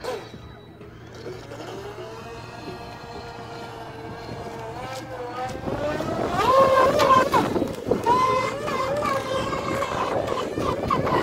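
A small brushless RC boat motor whirs and rises in pitch, growing louder halfway through into a buzzing high whine, with wind noise and a voice underneath.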